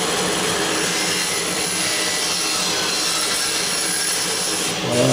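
A hand saw cuts wood for a Japanese shoji screen's mortise and tenon joint, making steady, close rasping strokes that run continuously with an even scratchy texture and no talking.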